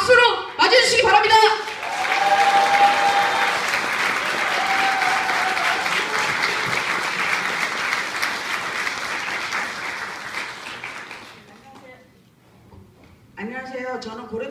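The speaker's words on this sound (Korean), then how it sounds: "서경지부 고려대분의 서재순 부분회장님을 바로 박수로 맞이해주시기 바랍니다" A union gathering's audience applauds to welcome a speaker, with sustained loud clapping lasting about ten seconds before it fades, and a voice speaking briefly before and after.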